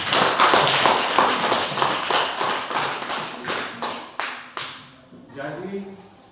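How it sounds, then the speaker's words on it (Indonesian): A school class clapping together in a classroom, a run of loud, regular, closely spaced claps that slowly fade and thin out, with a voice briefly talking near the end. "Ayo kita berikan aplaus sama-sama."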